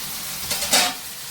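Tomatoes sauté in a pan: a short, close burst of hissing sizzle that swells briefly as they are stirred, with no speech.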